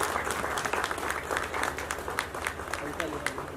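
An audience bursts into loud, rapid, sustained applause welcoming poet Shakeel Azmi at a literary and music gathering, with a voice speaking over the clapping.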